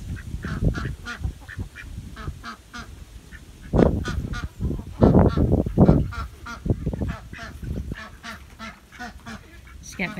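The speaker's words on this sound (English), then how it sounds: "these are her chickens and ducks." Backyard chickens and ducks calling outdoors, a busy stream of honking quacks and clucks coming in bursts, loudest in the middle, with no talking.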